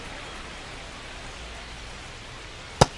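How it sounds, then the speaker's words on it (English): Rain falling steadily on a baseball field in the video game MLB The Show 25, an even hiss of drops with one sharp crack near the end. "It feels like we might be headed towards a rain delay if the weather doesn't ease up, Chris."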